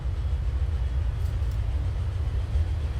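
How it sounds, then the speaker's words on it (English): A passenger train moving in the video game Transport Fever, a steady loud low rumble of rolling rail traffic with faint higher hiss, continuous and unbroken throughout. "Must be a passenger train."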